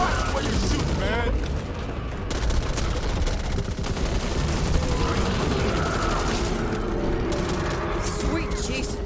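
Guns fire in the co-op zombie shooter Back 4 Blood. Dense, rapid automatic gunfire rattles almost nonstop over a loud, busy game mix, with mechanical clatter mixed in.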